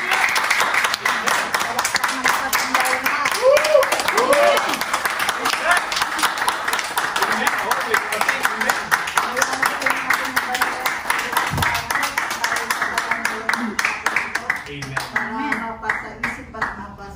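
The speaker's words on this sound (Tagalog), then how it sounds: "Itong palakpak na pinagpala." Applause from a church congregation after a prayer, dense and sustained, with voices talking and calling out over the clapping as it thins toward the end.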